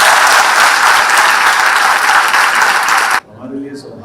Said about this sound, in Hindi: जरा जोरदार ताली दोनों के लिए।